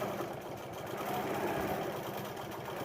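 A sewing machine stitches quilting back and forth, making a soft, steady mechanical whir with a faint rapid patter that runs evenly throughout.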